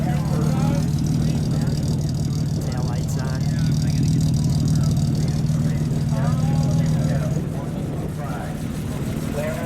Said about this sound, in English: Pretty smooth. Get a little exhaust note.